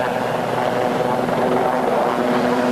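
A twin-engined Westland Lynx helicopter flies at an airshow, its loud, steady rotor and turbine roar filling the air without pause.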